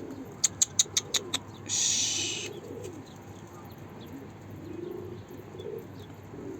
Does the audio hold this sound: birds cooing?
yes